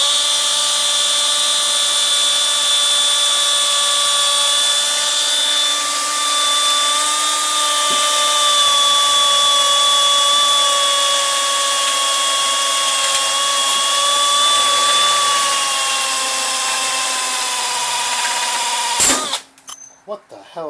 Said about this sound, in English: There you go, just going to drill.